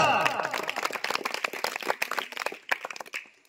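Schoolchildren in a classroom clap for a classmate during a storytelling activity, a burst of loose, uneven hand claps that thins out over a few seconds, close and fairly loud with no talking.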